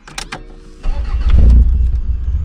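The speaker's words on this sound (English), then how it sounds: "It's an immediate start, so you don't have to struggle as you're starting the car." A 1986 Toyota Celica ST162 catches at once: a brief starter whir, then the engine fires and settles into a loud, steady rumble close by, with no talking.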